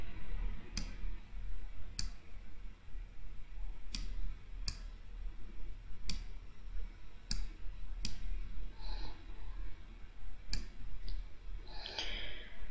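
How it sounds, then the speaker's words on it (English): Computer mouse clicks while installing Ubuntu Linux, about a dozen crisp, close clicks spaced irregularly over a low steady hum, with a few faint soft tones between them. "click continue real quick."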